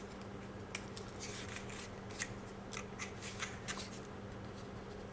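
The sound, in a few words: cutting a bevel in cardboard for a drawer compartment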